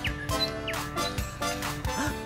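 Cartoon birds on a sunny day let out a few short, bright chirps and squeaky calls in quick succession, fairly close and clear.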